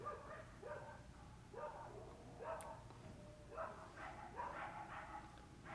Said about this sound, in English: There's some angry dogs that my neighbor has.